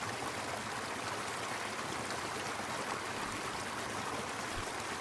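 Steady rush of water gushing from a 7.5 HP borewell pump, a dense continuous broadband flow at close range with no letup and no voices.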